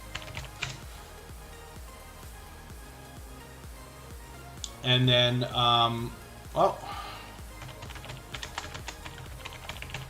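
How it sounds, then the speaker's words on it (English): Quick, light clicking from fingers typing on a computer keyboard runs steadily throughout, with a few louder bursts. A voice speaks briefly over the keys. "not watching what I'm typing there"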